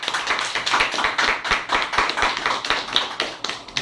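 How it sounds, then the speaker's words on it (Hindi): Audience applause welcoming an honoured guest at a gathering, a lively burst of many hands clapping with uneven, rapid claps, loud and close, rising and falling slightly over a few seconds with no talking. "तो हम लोग जोरदार तालियों से स्वागत करेंगे माननीय श्री भूषण दमनकर साहब का।"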